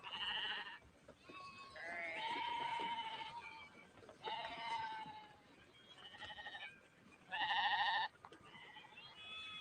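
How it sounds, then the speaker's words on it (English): Goat bleating from a film scene featuring a Judas goat, several separate bleats of varying length with short gaps between, loud and close, with only faint background noise. "A Judas goat."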